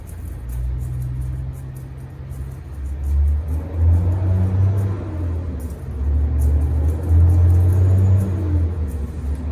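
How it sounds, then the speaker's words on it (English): Trucks passing nearby in an industrial area, a low rumbling engine drone that rises and falls in two slow swells over steady background noise. "I live in an industrial area, so there's lots of trucks around."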